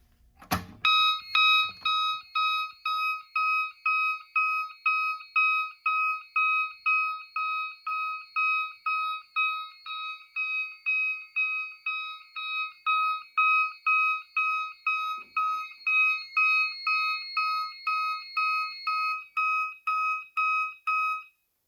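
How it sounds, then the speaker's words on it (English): A Notifier AFP-100 fire alarm panel's horn blares in a steady pulsing march-time rhythm, rapid repeated blasts continuing for about twenty seconds before stopping, loud and close. "The mass horn will sound in march time."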